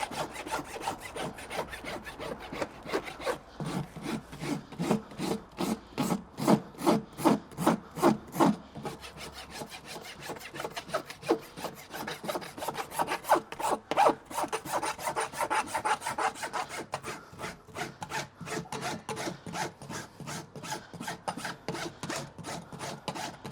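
Farrier rubbing a rasp around a horse's hoof, a steady run of rhythmic scraping strokes, loud and close, with a brief pause before the strokes resume more densely.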